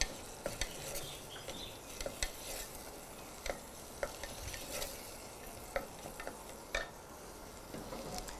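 Whole garlic cloves fry with onion in a pot for red lentil soup, a soft continuous sizzle broken by periodic scraping and tapping of a stirring utensil.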